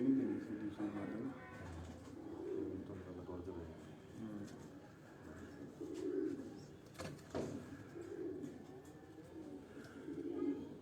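Breeder pigeons at a Lahore loft coo softly and repeatedly at some distance, with a low background hum and occasional sharp knocks.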